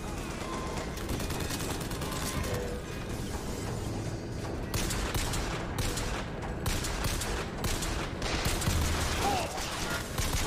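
Rapid bursts of gunfire from the BioShock Infinite video game, dense overlapping shots and fusillades that keep up loudly and continuously throughout.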